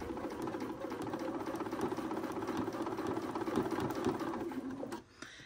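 A sewing machine runs steadily, stitching and back-stitching the shoulder seam at the apex of a garment sleeve, a continuous close mechanical whir for about five seconds before stopping abruptly.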